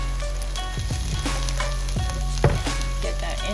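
Tofu stir-frying in chili garlic sauce, a steady loud sizzle with a few sharp clatters of utensils stirring against the pan.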